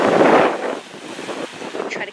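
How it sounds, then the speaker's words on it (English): Strong coastal wind buffets the microphone at a cove in Newfoundland, a loud rushing roar up front that eases after the first half second into gusty rumble, with faint surf and brief voice-like fragments beneath. "it's really windy."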